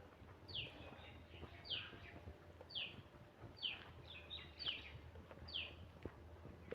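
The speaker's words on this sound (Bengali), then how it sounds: "পাখির মুখরিত শব্দে" Birds chirp in short, repeated calls around a dargah shrine surrounded by trees, each call sharp and clear over a quiet, steady background, spaced about a second apart.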